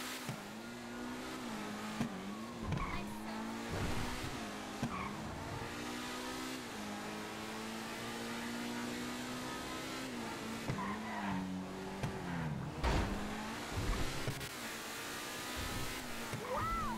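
A car in the video game Grand Theft Auto V Online revs and skids, tires squealing in rising and falling bursts over a continuous engine drone.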